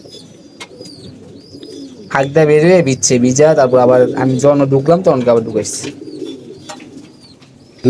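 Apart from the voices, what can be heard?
pigeons cooing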